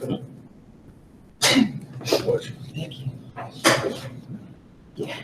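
A single loud, sharp sneeze bursts out in a quiet board meeting room, followed by a second smaller burst and some shuffling, with brief talk nearby.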